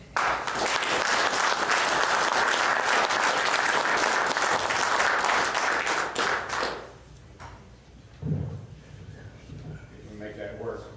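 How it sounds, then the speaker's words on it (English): Loud, dense applause from a large crowd fills the first seven seconds, then fades out, leaving a voice speaking over a quieter room. "I'd like you to give a rousing applause to our speaker for tonight"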